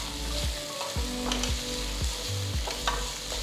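Finely chopped tomatoes sautéing in a pan for squid masala, a steady close sizzle and fry with repeated scraping stirs of a spoon at a regular rhythm.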